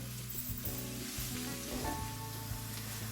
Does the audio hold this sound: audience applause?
no